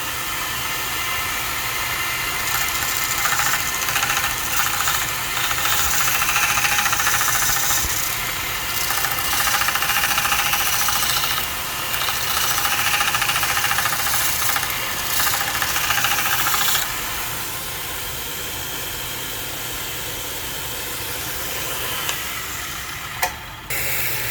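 A 1 inch belt sander with a 220 grit belt grinds a broadhead, a steady hissing whir with the pitch and loudness shifting as passes are made, then easing off near the end.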